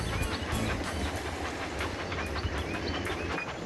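A train runs along its track in a children's train video game, giving a continuous rumbling roll with light rhythmic clatter at a steady, moderate level.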